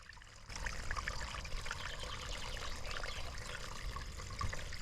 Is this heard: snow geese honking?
no